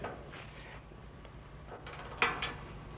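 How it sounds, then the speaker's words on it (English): A torque wrench tightens stainless steel fasteners on a Westin 32-1605 Ultimate Bull Bar on a 2005–2015 Toyota Tacoma. A quiet stretch gives way to a sharp burst of metallic ratchet clicks near the end, close by and brief. "Go ahead and put your torque wrench on there like so, using your open end wrench to hold the other end"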